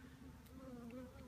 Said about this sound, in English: There's a lot of bees in this box actually.